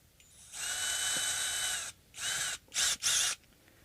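An electric drill boring into wood with a fine bit, whirring in one long run of about a second and a half, then three shorter bursts, close and fairly loud.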